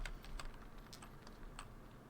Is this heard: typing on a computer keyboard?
yes